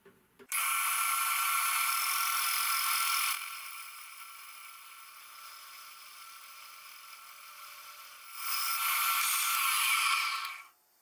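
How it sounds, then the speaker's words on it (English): A lathe bores out a Geo Metro flywheel to fit a Kubota diesel crank snout, cutting with a loud high-pitched whine for about three seconds, then dropping to a quieter hum before the shrill cut returns near the end. "The Geo Metro flywheel's all chucked up in the lathe."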